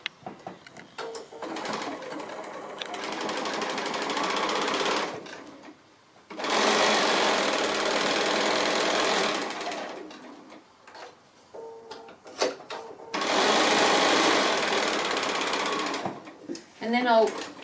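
A sewing machine joins fabric strips right sides together with a quarter-inch seam in three loud, steady runs of stitching. Short pauses between them carry fabric handling noises.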